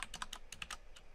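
Quick burst of computer keyboard keystrokes, crisp clicks in a rapid irregular patter, close and quiet with no talking.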